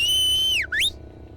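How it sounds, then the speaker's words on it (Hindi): A single loud whistle holds a high steady note, dips sharply down, then sweeps back up, over faint background noise. "सीटियां मारता है।"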